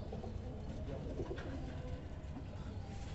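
Kalsira pigeons, a Madrasi breed kept by fanciers in Okhla, Delhi, coo softly and repeatedly over a steady hum of background noise.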